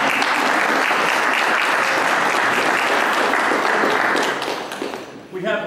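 An audience gives sustained, loud applause for correctional officers at the opening of a wing at Morris County Correctional Facility, a dense wall of clapping that fades slightly near the end.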